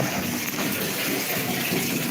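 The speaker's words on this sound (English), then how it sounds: "we're just filling the tub up all the way as much as we can" A bathtub fills from a running tap at full flow, a loud, steady broadband gush of water splashing into the tub without pause.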